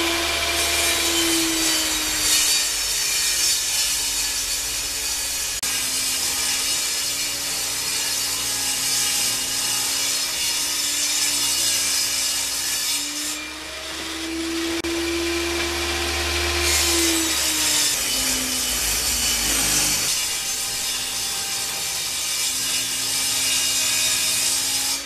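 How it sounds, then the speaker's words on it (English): A table saw rips half-inch strips from pallet boards in a steady, loud, continuous whine, with the blade pitch dipping briefly as wood is fed through midway. "all I'm going to be doing is feeding them and cutting out 1/2-inch strips"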